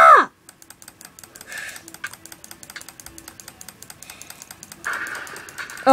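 Rapid typing on a computer keyboard during a survival game, a steady run of close, crisp key clicks with brief pauses, heard alone without talk.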